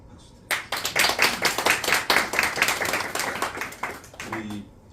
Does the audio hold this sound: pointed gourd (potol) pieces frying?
no